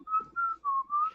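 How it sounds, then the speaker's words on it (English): A person whistles to call an animal, four short, clear whistled notes at close range, the pitch sliding gently between them in a quiet room. "I've been whistling for it for a while."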